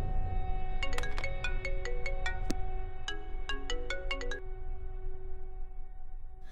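A melodic electronic phone ringtone plays in an Indian police action film, two runs of bright chiming notes separated by a short pause, steady over a low background hum.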